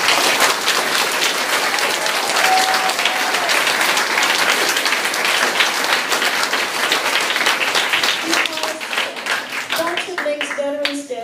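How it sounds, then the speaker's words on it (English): Dense, sustained applause from an audience at a Take a Veteran to School Day event, loud and steady for about ten seconds, then thinning toward the end as a few voices come through. "Let's give them a round of applause."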